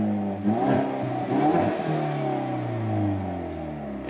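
A 2019 Hyundai Veloster N's engine revs in sport mode with a couple of sharp blips and then a long sustained rise, loud and close with no talking.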